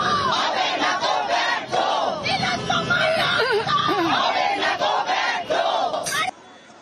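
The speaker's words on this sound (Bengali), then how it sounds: "হাজরা মোড়ে পুলিশের ব্যারিকেডের সামনে বিক্ষোভ," Protesters chant slogans in unison at a police barricade at Hazra crossing in Kolkata during the Nabanna Abhijan march, a loud, close crowd of voices rising and falling rhythmically before cutting off abruptly.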